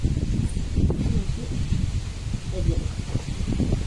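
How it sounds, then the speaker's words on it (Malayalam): Strong wind gusts beside a roadside, buffeting close by with low rumbling surges and leafy rustling that rise and fall over a few seconds. "നല്ല രീതിയിൽ കാറ്റ് വീശുന്നുണ്ട്, ഭയങ്കര കാറ്റാണ്."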